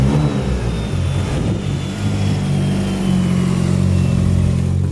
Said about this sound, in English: You actually get the tone of the motor.